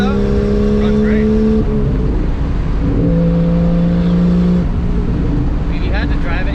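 A Lexus IS300 fitted with a 1JZ engine runs steadily, giving a loud, continuous engine drone whose pitch steps up and down, while voices talk over it.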